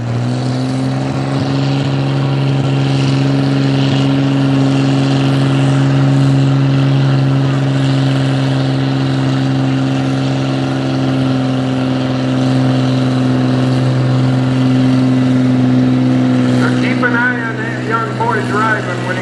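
A pulling tractor at a tractor and truck pull in Langford, New York roars at full throttle, a loud sustained engine drone holding steady for the whole stretch, with an announcer talking over it.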